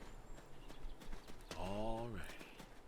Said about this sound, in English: Let me feed the horse first.